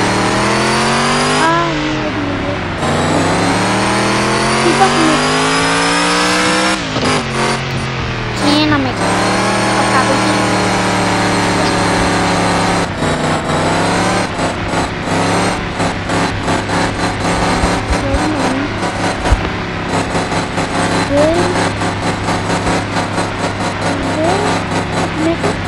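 Engine of a racing car worth 170k in a driving game, revving and accelerating steadily with rising and falling pitch sweeps as gears change, loud and continuous throughout, with a voice talking over it.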